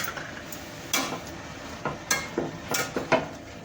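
A pan of vegetable with ground peanut powder cooking, a spoon stirring and scraping in scattered sharp clicks and knocks over a faint sizzle, close and quiet.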